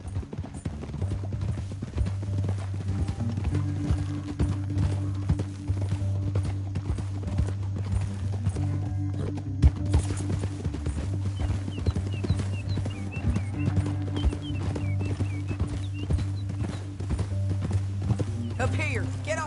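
Horses in Red Dead Redemption 2, hooves clip-clopping at a steady pace with a brief whinny, heard beneath a continuous music bed and game ambience.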